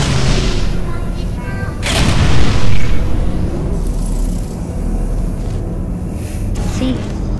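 Turrets blowing up in the Portal 2 video game, with loud booming, crackling bursts and a heavy swelling blast midway, continuing as dense rumbling noise throughout.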